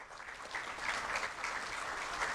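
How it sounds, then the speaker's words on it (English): An audience applauds for the CRAFT organization at a sustainability address in Aruba, an even wash of clapping that holds steady for a couple of seconds before cutting off abruptly, with no voices over it. "A hand of applause to craft."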